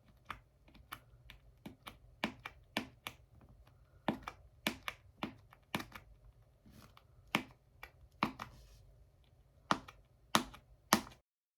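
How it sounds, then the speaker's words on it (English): An X-Acto knife cutting material for a graduation cap, heard as a string of sharp, clicky taps at an irregular rhythm, close and quiet, with no speech. "So with your X-Acto knife, this is a really good angle. You'll just go ahead and cut."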